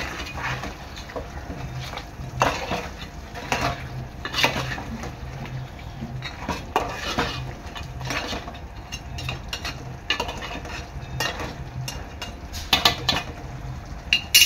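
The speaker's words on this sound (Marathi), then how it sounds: "चांगलं मिक्स करून घ्यायचं आहे." A spoon stirs crab curry in a metal pan, scraping and clinking in an irregular rhythm with soft sizzling underneath, close up and moderately loud, with no talking.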